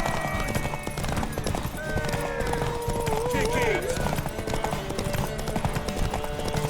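Horse hooves clip-clop steadily through a busy scene in The Witcher 3, the galloping beat partly buried under loud game music, shouting voices and other action noise.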